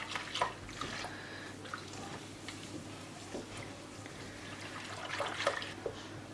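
A pot of pudding thickening on a stovetop as it comes to a boil, with faint, sparse bubbling pops and soft liquid gurgles spread across a quiet background, a few clustered near the start and end.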